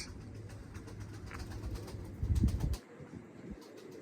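A pet pigeon gives soft cooing calls over faint background noise, then a short, louder burst of flapping wings.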